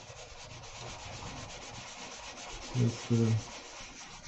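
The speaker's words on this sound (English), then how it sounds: "We will use a sandpaper to remove the polish of the wax." Sandpaper rubs wax polish off a carved stone seal in a steady, soft scraping texture, with two brief louder thumps near the end; a single short spoken word is heard.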